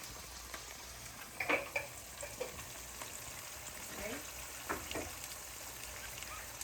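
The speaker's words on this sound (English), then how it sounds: "Okay, we're gonna let that simmer." Ackee and saltfish simmering in a pan, a steady soft sizzle and bubbling hiss with a few light stirring scrapes, faint and close.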